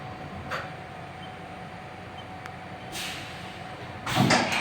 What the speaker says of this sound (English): Tool change.